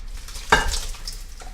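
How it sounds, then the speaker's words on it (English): A brief wet scrape and slosh as boiling tomato sauce is stirred in a pot, with a soft bubbling hiss around it. "you're dealing with boiling tomato sauce"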